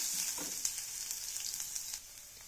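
Crushed garlic cloves sautéing in a pan for a Kerala-style chala (sardine) tamarind fish curry, giving a steady close sizzle with light stirring scrapes that drops off near the end.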